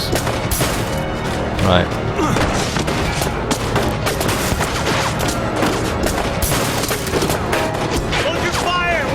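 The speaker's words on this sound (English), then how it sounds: "now I've got to wait for all the bloody bullets to stop every time I fail this" Gunfire from the video game 1979 Revolution: dense, continuous volleys of rifle and machine-gun shots with booming impacts, loud throughout, with a brief shouted voice in the mix.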